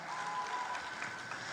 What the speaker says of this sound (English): Big round of applause to you as a wonderful audience for sharing that with them